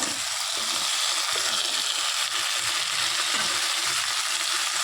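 Cut, washed potatoes and vegetables tipped into hot oil in a pan with a spiced curry base, sizzling and frying in a steady, close hiss with faint stirring scrapes.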